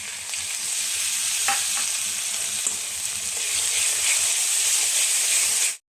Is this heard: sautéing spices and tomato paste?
yes